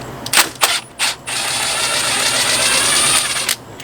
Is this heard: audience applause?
no